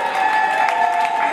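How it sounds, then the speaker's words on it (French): Guests at a baptism and birthday party applaud in a brief burst of clapping, heard over music playing in the room. "Applaudissez très fort pour lui."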